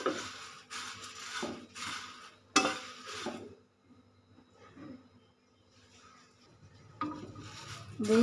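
Dry paper poha flakes being roasted and stirred in a pan, with bursts of scraping, rustling stirs that fade to a quiet lull midway before resuming close and loud at the end.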